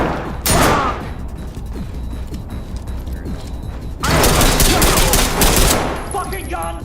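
Bursts of rapid automatic gunfire in an online tactical shooter game, one loud volley early, scattered mechanical clatter and shots through the middle, then a long sustained burst near the end.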